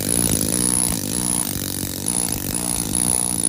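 An air compressor-driven chisel chips away concrete, producing a loud, steady buzzing rattle that runs continuously with slight surges, close up.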